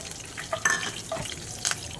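Curry leaves and green chillies for a tindora masala curry sputter in a hot tempering pan, a close crackling hiss broken by a few brief stirring scrapes.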